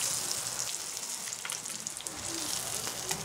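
Labahita fish frying in hot oil in a pan, a continuous bright close sizzle with scattered pops and crackles, steady throughout with no talking.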